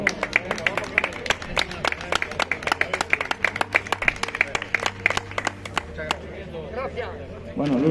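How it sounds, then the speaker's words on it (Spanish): An outdoor crowd at a regional greyhound championship with a mechanical hare claps for a dog, sharp rhythmic hand claps over about six seconds, with people talking underneath and afterward. "Un aplauso para Martirio, por favor."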